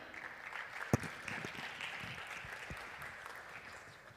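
Faint, thin applause from a small audience at a startup pitch competition hall, distant scattered clapping with one sharper clap early on.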